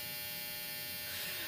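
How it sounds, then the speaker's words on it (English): A household clothes dryer drones steadily nearby, a dense continuous electric buzz and hum that fills the whole moment without pause, loud and unbroken, with no one talking over it. "Shut up, dryer."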